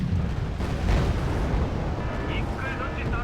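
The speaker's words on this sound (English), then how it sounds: "Oh, that artillery is nasty." Artillery shells landing in the Cold War strategy game Wargame: Red Dragon, set in a 1992 Second Korean War campaign: a dense, continuous low rumble of distant blasts with a heavier thud near the start, while a voice talks over it.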